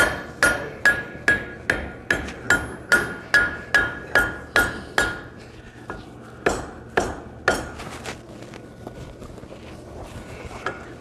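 Heavy hammer blows ring on an anvil as a blacksmith forges inch-and-a-half hot steel stock, folding a hump in at a smithing conference; a steady rhythm of about a dozen sharp, ringing strikes slows to a few spaced blows, close and loud.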